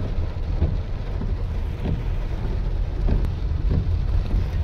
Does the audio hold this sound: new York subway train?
no